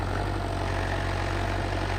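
Tractor in four-wheel drive pulling a cultivator through a field, a steady low diesel engine rumble held at an even pitch, moderately loud with no talking.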